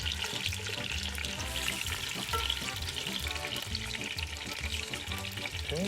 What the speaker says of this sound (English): we're just going to sear them